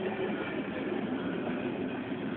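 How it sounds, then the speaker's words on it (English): A train rolls past on the rails with a steady, continuous rumble and rattle of wagons that holds an even level throughout, with no voices. "I really wish this train would get over, because I need to get to work."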